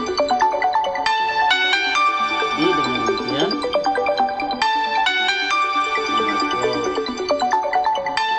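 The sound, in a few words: mobile phone ringtone, phone not set to silent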